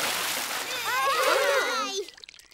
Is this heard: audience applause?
no